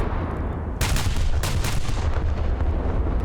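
A naval gun salvo from the German battleship SMS Nassau in War Thunder lands as a heavy sudden boom, followed by a second blast and a long rumbling roar that carries on over a steady low engine drone.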